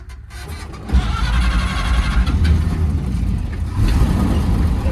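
An old truck engine with a foot stomper starter cranks and catches near 1 s, then settles into a loud, steady idle with rough low rumble running to the end.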